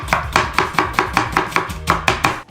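A knife chops onion into cubes on a board, about a dozen quick, even, close thuds in a steady rhythm with no talking.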